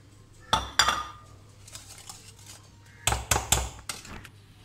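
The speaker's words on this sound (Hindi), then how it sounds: "अभी मैं ये मिला के इसको मिक्स करती हूँ।" A spoon clinks and scrapes against a bowl while whipped egg whites are mixed into chocolate cake batter, in two short bursts of close clatter separated by a quiet stretch.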